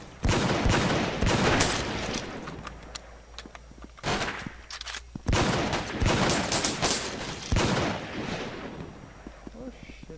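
Rapid bursts of gunfire from the online shooter Brain Out, with repeated volleys and clustered shots close by, overlapping with a player talking throughout.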